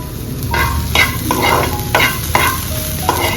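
Spoon stirring chili flakes and oregano in a sizzling frying pan, with repeated scraping strokes about every half second over a steady close fry.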